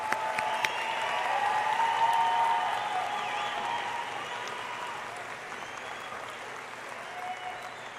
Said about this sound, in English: The audience, let's give them another round of applause.